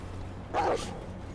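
A single dog bark or yelp in the Werewolf: The Apocalypse – Earthblood video game, one short mid-loud burst over a steady low game ambience, no talk.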